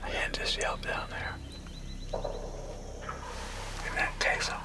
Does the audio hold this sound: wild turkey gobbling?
yes